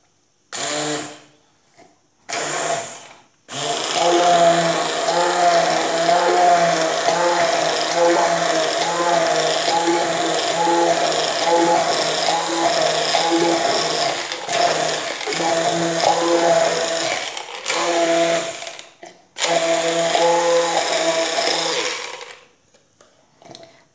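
A kitchen blender whirs through a thick marinade with oil for roast chicken: a few short pulses, then a long, loud, continuous motor run with slight wavering, a brief pause, and another run before stopping.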